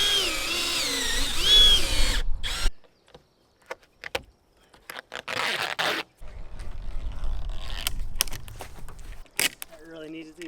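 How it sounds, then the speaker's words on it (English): A power drill drills out rivets on the molding of a 4x4 camper, a close whining grind for about two seconds, followed by gaps, scraping and handling noises, and another short burst of drilling. "It's riveted on in two places. I just have to drill it out."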